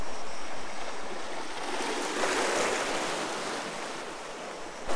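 Sea waves wash and surge against a long stone pier on the coast of Crete, a steady, close, loud roar of surf with rising swells and no voices.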